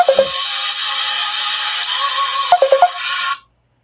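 A mobile phone ringtone plays loudly and continuously for a few seconds, a bright electronic melody with repeated note bursts that cuts off abruptly at the end, heard alone at an open mic night.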